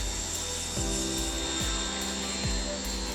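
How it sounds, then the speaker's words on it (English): A Wilks USA RX510 pressure washer running, a steady motor drone with a high whine and a rhythmic pulsing thump about every 0.8 seconds. "I can comfortably talk to people and listen to things over the sound of this jet wash"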